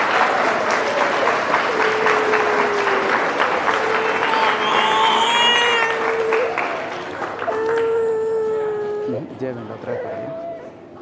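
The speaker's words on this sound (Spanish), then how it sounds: "Damos un fuerte aplauso" A church congregation applauds during the Easter Vigil Mass in a sustained burst of clapping, with voices and singing tones rising over it before it fades toward the end.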